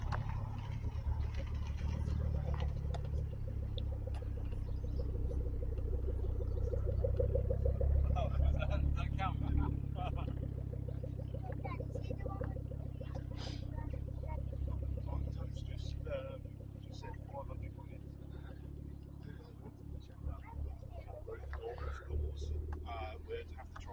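A car pulls in at a Ford car meet in Challock near Ashford, UK, a low, rumbling engine rising gradually and staying fairly near, with people talking over it throughout.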